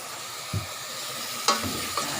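Spiced ingredients frying in a pan sizzle quietly while a utensil stirs, with a few distinct scrapes and clacks against the pan over a low steady hiss.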